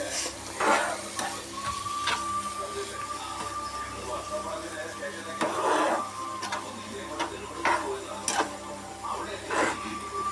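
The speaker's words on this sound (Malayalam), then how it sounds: "അപ്പം നമ്മൾ ഇത് ഇളക്കി ഒരു പരിവാക്കുന്നുണ്ട്." Fish curry masala being stirred in a pan, with repeated scraping strokes of a spoon over a steady low sizzle, close and moderately loud, with no talking.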